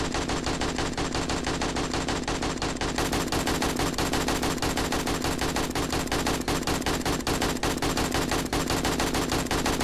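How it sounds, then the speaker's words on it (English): Rapid automatic gunfire in the video game 7 Days to Die (Darkness Falls mod), a dense, loud, continuous burst of machine-gun shots that fills the whole stretch without pause. "now he's shooting down"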